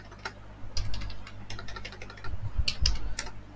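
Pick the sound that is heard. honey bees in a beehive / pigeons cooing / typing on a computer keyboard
typing on a computer keyboard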